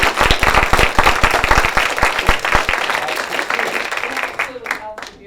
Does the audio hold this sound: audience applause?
yes